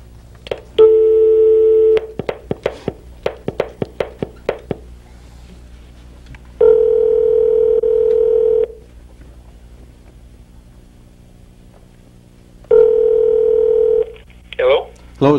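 A game-show phone-a-friend call: a steady telephone tone plays, then a quick string of dialing beeps, followed by two more long tone bursts separated by silence, loud and close with no voices over it.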